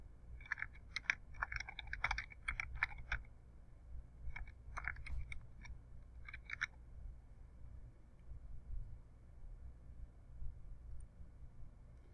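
Typing a file name on a computer keyboard, two short clusters of quiet key clicks over a low steady hum, then only the hum remains.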